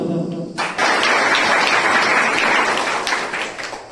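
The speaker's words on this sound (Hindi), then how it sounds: "तालियों सीटियों का हल्ला थोड़ा जोर से होना चाहिए" Applause erupts suddenly at a student honours ceremony and holds as a loud, dense roar of clapping and crowd noise for several seconds before easing slightly.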